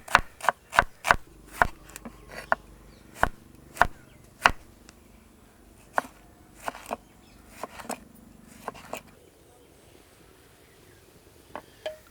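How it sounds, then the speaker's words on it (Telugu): A knife chops onions, tomatoes and green chillies on a cutting board, each crisp close tap spaced irregularly, quickening in places, then slowing and thinning out with no talk. "ఉల్లిపాయలు టమాటాలు పచ్చిమిర్చి కోసుకొని"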